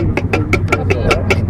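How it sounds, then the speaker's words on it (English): A truck engine runs with a compressor, producing a steady low idle under a rapid series of sharp, evenly spaced knocking pulses, loud and close. "Not me, the fucking truck's doing it."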